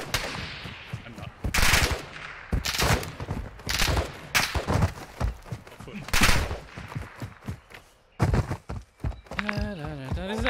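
Gunfire in the video game Warzone: loud bursts of automatic fire and single shots, with footstep-like clatter between them, mixed with brief game sounds near the end.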